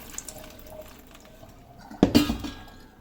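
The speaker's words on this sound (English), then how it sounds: "going to dump that water out" Rinse water poured out of a bowl of freshly made butter, a quiet lead-in of faint handling sounds, then a sudden close splash and gurgle of water dumped into a sink, tapering off over a second.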